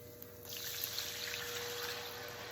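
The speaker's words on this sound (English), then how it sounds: "I usually add a little bit of water to this. I leave it on max and I just let all this sticky stuff cook off" Water is added to a pan left on maximum heat with sticky residue, and a steady hissing trickle begins after a quiet half-second and keeps going at moderate level with no talking.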